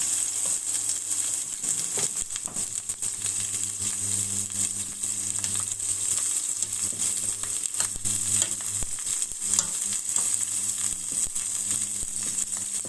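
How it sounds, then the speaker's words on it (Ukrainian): Meat frying in a pan for a stuffed flatbread filling, a continuous close sizzle with occasional stirring, over a faint steady hum, with no one speaking. "І так м'ясо ми підсмажили"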